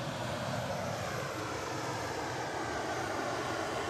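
A British Airways airliner at Edinburgh Airport produces a steady, broad engine roar that holds loud and constant throughout, with no voices over it.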